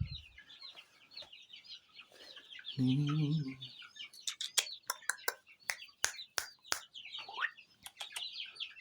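Chicks peep in a constant high twittering while a hen gives a short low cluck, followed by a series of sharp pecking or tapping clicks close by.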